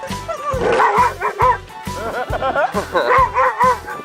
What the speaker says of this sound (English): The travel pup is going crazy.